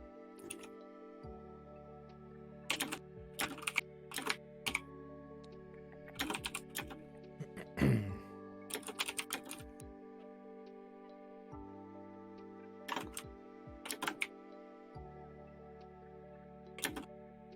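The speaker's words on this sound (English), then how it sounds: "I'm typing it right now." Typing on a computer keyboard during a tabletop role-playing game session, with bursts of clicky keystrokes separated by pauses over a steady low background hum, close and fairly quiet.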